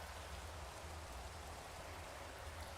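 Soft steady rain in the video game Minecraft, a continuous even hiss of falling water at low level with no voices or other sounds.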